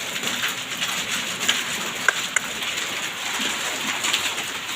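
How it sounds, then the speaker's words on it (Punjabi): Heavy rain falls during a windy storm with large hailstones, making a loud, continuous hiss broken by a few sharp, isolated impacts. "ਹਾਏ ਔਲੇ ਆ ਗਏ ਔਲੇ ਸੱਚੀਓ ਕਾਫੀ ਵੱਡੇ ਵੱਡੇ ਆ"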